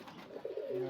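A native blue pigeon gives a short, soft, low coo, heard alone and fairly faint.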